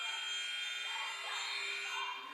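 A basketball game-ending buzzer sounds at a boys varsity high school game, a sustained loud electronic tone ringing steadily for over two seconds above gym crowd noise.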